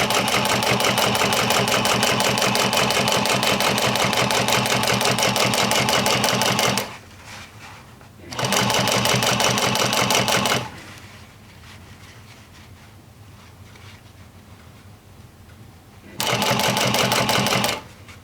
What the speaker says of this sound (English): this machine, it's needle fed